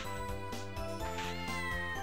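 A cat meows in Castlevania: Order of Ecclesia, a clear, tonal game sound effect repeating in quick succession, close and alone.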